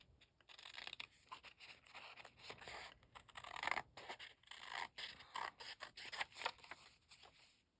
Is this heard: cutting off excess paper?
yes